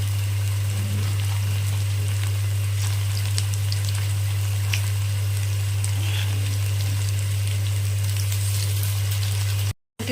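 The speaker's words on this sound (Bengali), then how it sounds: "এখন ভাজা হোক।" Bora fritters frying in hot oil over low heat, a steady close sizzle with soft bubbling and crackle throughout, a low hum underneath and a brief dropout at the very end.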